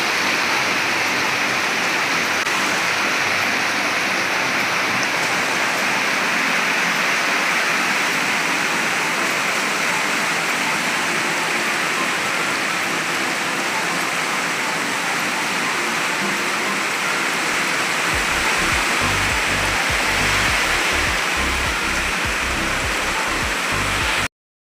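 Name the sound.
rain falling outside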